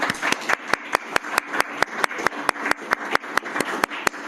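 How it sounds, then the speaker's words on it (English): Applause for a guest presenter at a professional talk, heard as a steady, fairly close patter of hand claps with regular sharper slaps standing out in an even rhythm, and no talk over it. "Can I get a big round of applause for Steve?"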